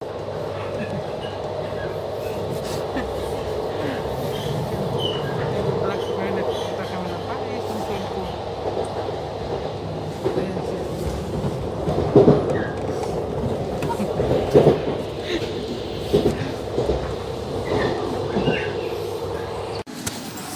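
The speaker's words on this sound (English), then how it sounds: "Nandito ako sa train." Steady low rumble and rattle inside a moving passenger train bound for Paris, continuous and close, with a few louder knocks near the end and voices talking in the carriage.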